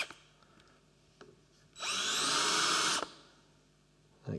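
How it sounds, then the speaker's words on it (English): A power drill countersinks a hole in wood while making a toothing plane, one loud steady whir lasting just over a second with quiet pauses before and after. "you can countersink or not countersink, just makes it a little bit more"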